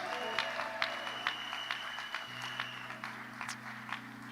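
A church wedding congregation claps and cheers in rhythmic bursts, moderately loud, with a steady organ or keyboard tone sustained underneath.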